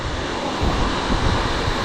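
A 100-foot waterfall in Bali thunders as a steady, loud, broadband roar close by, with gusty rumbling surges and no voices.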